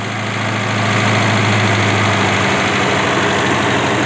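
A Datsun A14 engine fitted with Mikuni 40 PHH carburetors idling around 1100 RPM, a loud, steady, close rumble with an even throbbing pulse and no speech.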